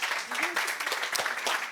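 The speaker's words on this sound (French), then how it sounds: "On peut les applaudir." A live audience at a deeptech startup event in Nice applauds briefly, a short burst of clapping with voices mixed in.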